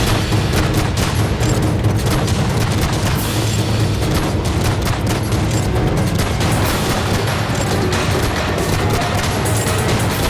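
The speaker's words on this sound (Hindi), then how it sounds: "इराक और सीरिया पर बम बरसाए गए" Bombing and gunfire from Turkish strikes on Iraq and Syria roar loud and dense, a continuous barrage of booms and crackling shots with no pause.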